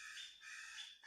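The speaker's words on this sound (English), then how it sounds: "And wow, the birds are so loud." Faint bird calls sound from outside, a couple of soft, drawn-out cries in quick succession.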